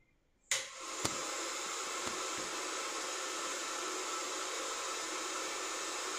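A nano waterproof coating machine's solidifying chamber runs with a steady, loud broadband whoosh of blowing air, drying a coated smartphone; it starts abruptly after a brief quiet moment and holds constant, with a few faint clicks.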